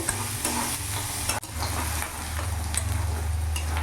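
Chopped onions frying in a pan for a jackfruit curry, stirred with quick scraping strokes over a steady close sizzle, with a low hum beneath and one brief dropout, no talk.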